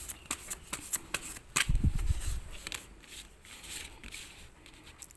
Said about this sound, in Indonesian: Kita shuffle dulu kartunya ya.